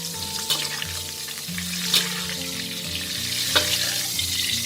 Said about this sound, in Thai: เราจะไม่ทอดกุ้งแห้งนานนะ เดี๋ยวจะแข็งค่ะ